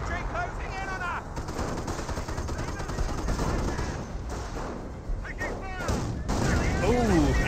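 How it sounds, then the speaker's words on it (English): Artillery shells landing and gunfire crackle in a Company of Heroes match, dense rolling bursts layered with a commentator talking throughout. "officer artillery does get a great hit there"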